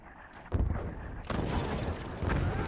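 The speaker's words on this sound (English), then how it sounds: "I'm going to put a bit more power into the mortars and see if we can hit their mortars." Mortars firing in the construction strategy game Forts: a few heavy, booming launches in close succession, with deep low thumps and a rolling rumble that swells and carries to the end.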